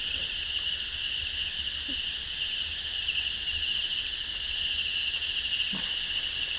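Crickets on a cricket farm chirp in a dense, continuous high trill, steady and fairly loud throughout, with a few faint knocks underneath and no talk.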